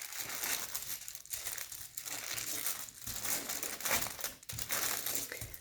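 Homemade playdough being kneaded on a sheet of wax paper, giving a steady run of close, loud crinkling and crushing rustles that swell and ease in uneven bursts, with no talking.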